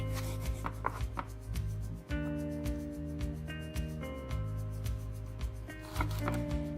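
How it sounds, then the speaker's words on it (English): A knife chops tindora (ivy gourd) into fine pieces on a board, with a quick, steady run of close, crisp chops under a constant low hum. "And chop it in fine pieces like this."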